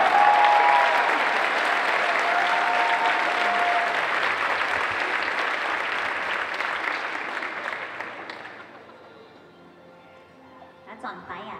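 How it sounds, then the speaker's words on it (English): A cosplay competition audience claps in sustained, dense applause that holds strong for several seconds, then gradually thins and fades out, with a few scattered sounds at the end. "Round of applause, both of them."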